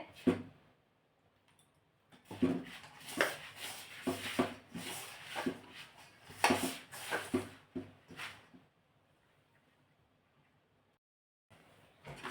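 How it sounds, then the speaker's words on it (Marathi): Stiff kachori dough is kneaded by hand in a bowl, giving soft, close squelching and pressing thumps in a bursty middle stretch, with quiet pauses before and after. "आता थोडं थोडं पाणी टाकून हे पीठ घट्टसर भिजवायचं आहे"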